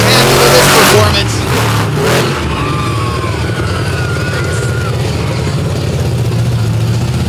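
Monster truck engine roaring at a monster truck show, a loud, steady low rumble held throughout, with a brief louder burst at the start and crowd noise blended in.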